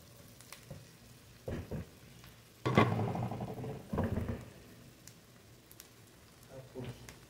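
Chili peppers hit a hot pan while cuttlefish is being cooked, giving short bursts of crackling sizzle and stirring scrapes with quiet gaps between, close and moderately loud, with a voice talking now and then.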